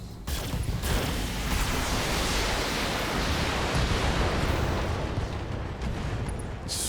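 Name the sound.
mech weapon firing in video game MechWarrior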